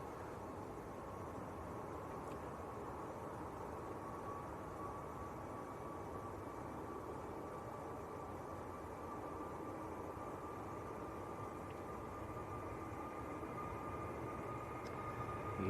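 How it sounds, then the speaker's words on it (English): An EasyJet airliner taking off from Manchester Airport, a constant distant engine rumble and roar holding steady with a faint whine, no voices. "EasyJet just getting airborne."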